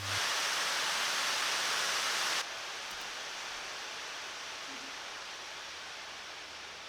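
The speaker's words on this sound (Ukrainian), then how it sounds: "Ось так ноут ну, звучить в різних режимах продуктивності." An Acer Aspire 3D 15 SpatialLabs Edition laptop's cooling fans whir as a steady broadband hiss, loud at first and then dropping to a quieter, even level as the performance mode changes.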